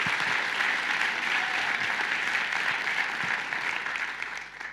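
Steady applause from an audience at a startup demo day event fills the room, dense, even clapping that holds for several seconds before tapering slightly at the end.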